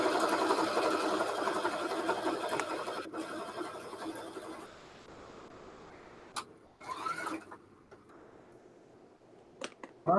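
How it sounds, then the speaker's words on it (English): A sewing machine hums steadily, then stops; a few clicks and short mechanical whirs follow in the quieter stretch. "I'm not real good at the sewing machine thing yet."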